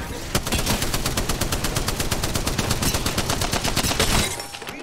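Rapid automatic gunfire from a weapon in the battle-royale game Apex Legends, a dense, loud, evenly paced burst of shots lasting about four seconds before cutting off abruptly.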